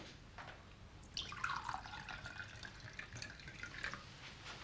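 Chablis pours into a glass at a restaurant table, a faint, trickling liquid stream that runs for several seconds against quiet room tone, with no voices over it.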